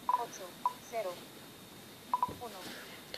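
Keypad tones sound on a Samsung Galaxy S6 as numbers are dialed, a few short clear beeps, some in quick pairs, scattered under a person's ongoing speech.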